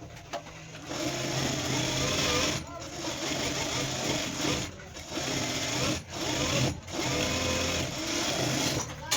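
Sewing machine stitching the second side of a blouse seam, a steady close mechanical whir running in long bursts with a few brief pauses.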